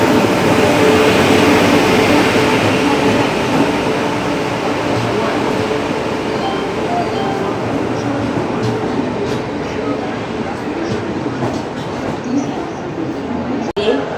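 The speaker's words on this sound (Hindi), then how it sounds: "प्लेटफॉर्म नंबर 3 पे अराइवल ले रही है मालवा सुपरफास्ट एक्सप्रेस" Malwa Superfast Express rolling into platform 3 at a station, a loud steady rumble and hiss of the moving train that fills the whole stretch and eases slightly toward the end, with no clear voices on top.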